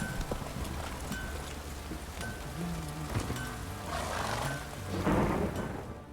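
Horse hooves clip-clop in a rainy Witcher 3 game scene, a steady hoofbeat rhythm under rain hiss with low thunder-like rumbles swelling toward the end.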